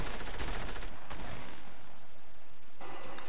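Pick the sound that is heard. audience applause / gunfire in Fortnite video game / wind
gunfire in Fortnite video game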